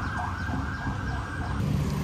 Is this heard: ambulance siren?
yes